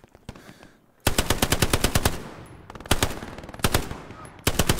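A machine gun in the World War II shooter game Hell Let Loose fires long, loud, close bursts of rapid rounds, with a short lull early on and brief gaps between strings of shots.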